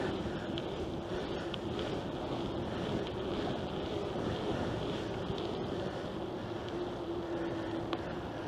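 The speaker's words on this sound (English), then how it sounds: "that wind's a whipping" Strong gusty wind buffeting the microphone along the Erie Canalway Trail, a continuous roaring rush with a low steady hum beneath, no voices.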